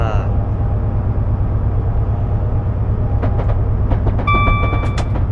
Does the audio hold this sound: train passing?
yes